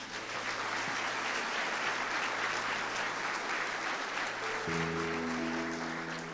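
A church congregation applauds in praise during a Portuguese sermon, a dense, steady roar of many hands clapping close and loud throughout, with a low sustained organ or keyboard chord entering near the end.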